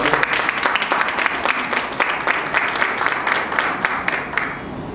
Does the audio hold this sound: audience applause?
yes